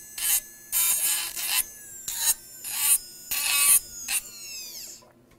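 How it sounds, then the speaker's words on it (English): A dental trimmer spinning at about 20,000 to 25,000 RPM cuts Valplast flexible partial denture material in several short, loud, rasping bursts, with brief pauses between them and a whine that spins down at the end. "As you can see, the trimmer cuts very smooth and removes"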